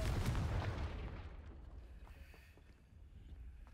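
A fiery Confringo spell blast in Hogwarts Legacy, a loud broadband burst at the start that fades and decays into a rumbling, wind-like tail.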